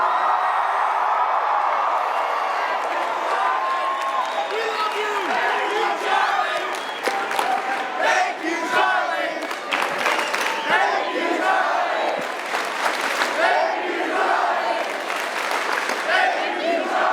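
A large conference audience at America Fest cheers and applauds loudly and continuously, with whoops and shouts rising out of a dense, close wall of clapping.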